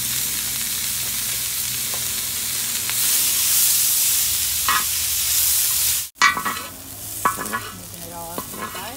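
Chicken with peppers and onions frying in a hot pan, with a loud, steady hiss of sizzling that breaks off, then restarts with scraping and stirring strokes and crackles.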